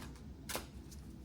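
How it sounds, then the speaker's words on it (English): A tarot card deck is shuffled and shaken out: a soft riffling with one short, sharp papery burst in the middle, quiet and close. "Then we are going to shake out the cards"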